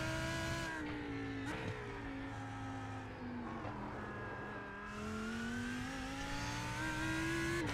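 A Lamborghini race car engine in the iRacing video game drones steadily, its pitch dipping and then climbing as the car slows and accelerates again, heard close and continuous with no voices.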